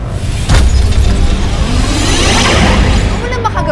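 A bagua mirror smashed in a home, a sharp loud crash at the start followed by a scattering wash of breaking glass and debris that lingers close and loud for several seconds.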